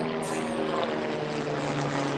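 A news helicopter drones overhead, a steady low rotor hum with engine whine, fairly faint and constant throughout.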